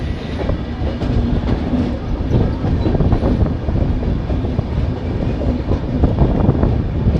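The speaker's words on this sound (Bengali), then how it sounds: "ফাইনালি ভাগলপুর স্টেশন ছাড়িয়ে ট্রেন বেরিয়ে যাচ্ছে।" The New Delhi - Malda Town Express pulls out of Bhagalpur station, a loud, steady rumble of wheels and carriages with continuous rhythmic clatter heard from on board, without talk.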